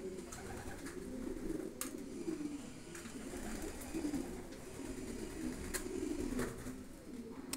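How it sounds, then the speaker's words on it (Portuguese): Pigeons coo steadily while feeding on a seed mix, a low, continuous murmur of overlapping calls at moderate loudness with no talking. "Vamos deixar a pombada se alimentando."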